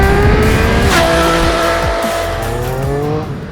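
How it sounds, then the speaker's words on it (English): A 2021 Triumph Speed Triple 1200 RS breathes through its stock Euro 5 exhaust can, a loud, close engine note whose pitch climbs and falls in steady sweeps before easing off at the end. "completely intoxicated with this amazing exhaust note from the stock Euro 5 can"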